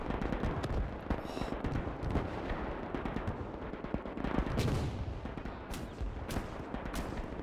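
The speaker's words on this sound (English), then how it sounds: "Oh, that was a nice barrage of mortar fire." A mortar barrage rolls across a battlefield in the Gates of Hell war game, dense overlapping thuds and bangs with scattered sharper cracks of gunfire, loud and continuous throughout with no voices.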